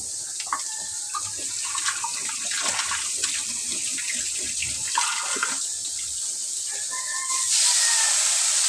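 Water pours steadily into a pot of chopsuey, a continuous splashing hiss with small bubbling pops, swelling louder near the end.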